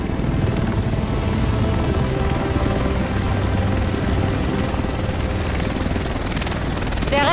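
A helicopter in The Division thrums loudly and steadily close overhead, its rotor chop dense and continuous throughout, with a brief chirp at the very end.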